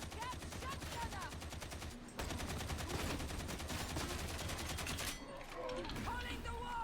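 Sustained rapid automatic gunfire from Warhammer 40,000: Darktide, a dense rattling barrage with a brief pause partway through, loud and close, with game effects mixed in.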